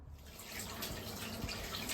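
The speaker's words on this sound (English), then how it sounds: "Yes, I am washing my hands" Tap water runs steadily into a sink as hands are washed, a continuous close splashing hiss with no talking.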